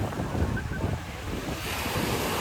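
Small ocean waves break and wash up on Waikiki Beach, Oahu, a steady close roar of surf with wind buffeting the microphone throughout.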